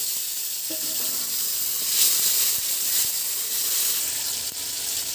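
Bay leaf, whole cumin and chopped tomato hit very hot oil in a village-style kitchen, giving a loud, continuous hissing sizzle with a few louder surges and no voices.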